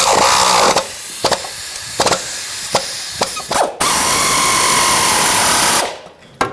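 A power tool hammers and whirs on a rusted 14mm bolt holding a catalytic converter to its bracket on a 2013-2020 Nissan Pathfinder, in loud rattling bursts, then a steady spin before it stops.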